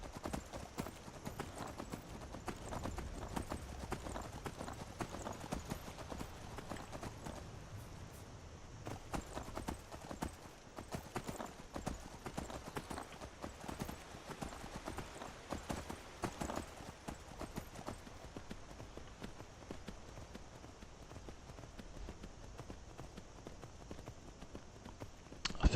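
Horse hooves clip-clop at a walking pace in the Skyrim video game, a steady run of soft, moderately quiet hoofbeats over faint ambient outdoor game sound.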